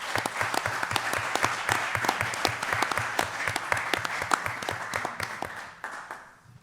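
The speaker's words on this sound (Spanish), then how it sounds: "mi aplauso desde aquí es especialmente para vosotros" Applause at the closing session of the CIMAD24 congress: a fairly small group clapping in a steady, distinct rhythm that thins out and fades near the end, heard at a modest distance.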